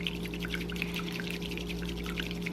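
Hot water pours steadily into a cup for matcha, a continuous close trickling stream with no talking.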